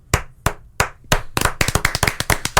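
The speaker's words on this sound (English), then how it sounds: "full round of applause" A few hosts on a comedy podcast give a round of applause. It starts as slow, sharp, separate claps close to the mic, then speeds into quicker, overlapping clapping, with no voices.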